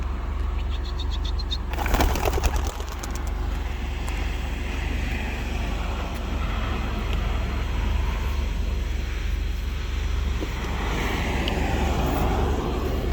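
Racing pigeons released on the first race day, flying off through open air: a brief burst of wing-clapping flutter early on, then steady outdoor wind and distant traffic rumble with no talking.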